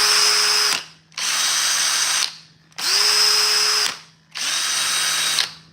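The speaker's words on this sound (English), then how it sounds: "The DeWalt motor just kind of sounds a little bit stronger, a little bit more fine-tuned." Cordless drills, a DeWalt and a Ryobi, whine loudly in four steady bursts of roughly a second each, every burst spinning up and cutting off with brief gaps between, close by and with no voices.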